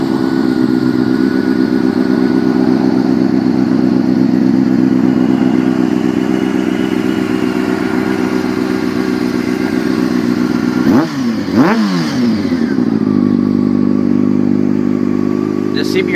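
A 2001 Honda CBR600 F4i sport motorcycle with an aftermarket Two Brothers exhaust idles steadily and loud with a deep, throaty exhaust rumble. Near the end a brief blip and clatter changes the note, then it returns to idle.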